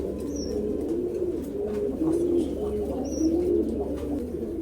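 Pigeons of a high-flying nafta breed, including a female, coo in gentle recurring phrases at close range, with a couple of brief higher chirps and no voices.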